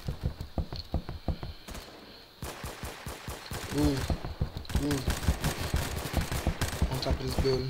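Rapid volleys of sniper and other gunfire in a Roblox shooter game, dense cracking shots in quick bursts throughout, loud and close, with a voice talking over parts of the action.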